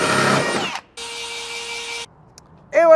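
A power drill fitted with a hole saw whines in short bursts, with a sustained spin in the middle and a brief high whir at the end, separated by pauses.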